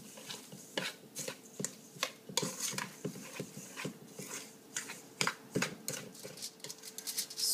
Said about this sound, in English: And then we'll stir that all up.